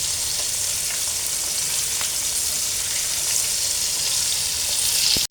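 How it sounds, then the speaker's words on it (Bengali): Hilsa fish fry in hot oil in a wok on a rainy day, giving a continuous, even, close sizzle with a few faint clicks and no talk. "কড়াইতে তেল গরম হয়ে আসছে, এখন ভাজবো"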